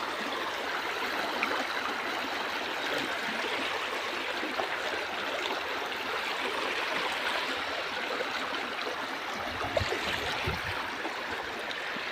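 River water runs steadily near a farm field, an even rushing and trickling flow that stays constant throughout, with no voices.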